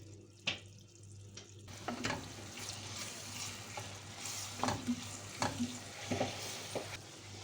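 Minced meat and onions fry in a pan with a low, steady sizzle, broken by a few soft scrapes and knocks of stirring; quiet and close.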